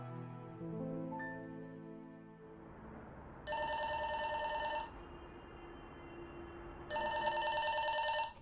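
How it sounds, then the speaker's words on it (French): A telephone rings in a home, two electronic bursts of trilling rings separated by a pause, clear and fairly close over a quiet room. "Maman, téléphone!"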